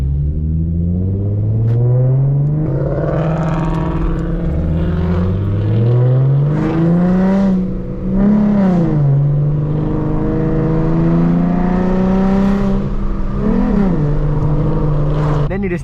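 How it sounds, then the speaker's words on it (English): Car engines revving at a drag strip, a loud, steady drone that climbs and falls in pitch through repeated swells over about sixteen seconds, close and continuous. "They need to stop revving."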